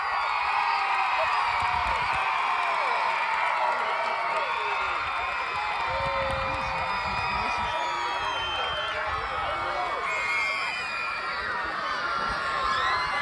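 A large school assembly crowd cheers loudly and continuously, children shouting and whooping in a thick, sustained roar with rising high-pitched yells throughout.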